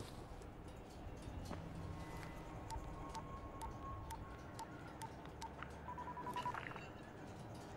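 Telephone dialing in the Dying Light video game on PS4: a run of short electronic keypad beeps over a steady hushed ambient backdrop, with no talking.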